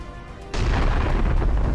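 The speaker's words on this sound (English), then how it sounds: "A massive explosion tears the APC to pieces." A massive explosion destroys an armored personnel carrier, a sudden loud boom that erupts and then keeps roaring as a heavy, rumbling blast with no talk over it.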